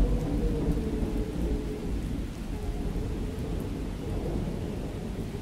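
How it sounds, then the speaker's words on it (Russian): Heavy rain pours steadily in the video game Miscreated while low thunder rumbles underneath, a continuous, loud storm wash with no talk. "Дождь, гроза, ураган, торнадо"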